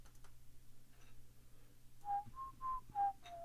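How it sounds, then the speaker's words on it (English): A person whistles a song tune in a few clear sustained notes near the end, preceded by soft ticks and light handling sounds during a Lego build. "Let me not whistle that song on stream."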